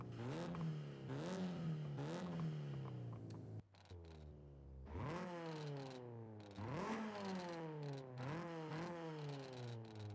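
Honda Prelude SI engine with sport exhaust in a video game, revving hard in repeated rising sweeps, with a brief drop and lull near the middle before climbing again, loud and close with no talk.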